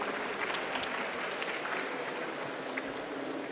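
Steady applause from an indoor conference keynote audience in London, a dense even clatter of clapping hands that holds throughout.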